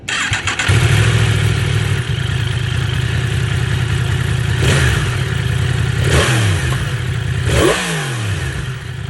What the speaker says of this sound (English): The bike sounds incredible even with the stock exhaust. So let's just take a quick sound check right now.